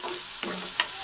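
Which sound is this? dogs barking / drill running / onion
onion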